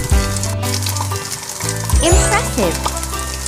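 Bacon sizzling in the Breakfast Maker cooking game, a steady crackling fry running under bright game music and chimes while a voice speaks briefly.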